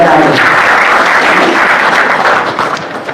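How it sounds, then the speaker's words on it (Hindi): An audience at a religious gathering breaks into loud, dense applause, many hands clapping steadily for about three seconds before tapering slightly at the end. "एक बार जोर से तालियां बजाएं"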